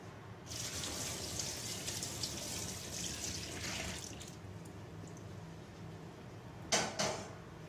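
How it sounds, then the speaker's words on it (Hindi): Water pouring steadily into a container holding a kitchen chimney filter, a constant soft rushing stream close by, ending with a couple of light knocks. "तो मैं इसके अंदर थोड़ा और पानी ऐड कर रही हूँ।"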